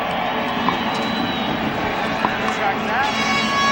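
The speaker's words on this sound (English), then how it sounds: "Listen to the Boise State crowd" Boise State fans roar at a 2002 college football game in Reno against Nevada, a sustained, broad wash of crowd noise with someone talking over it.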